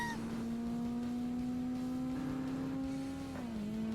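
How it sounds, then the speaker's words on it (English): A V12 race car engine in Forza Motorsport on Xbox holds a steady high drone, alone and unchanging, then dips briefly and recovers near the end. "so you can hear the V12 by itself"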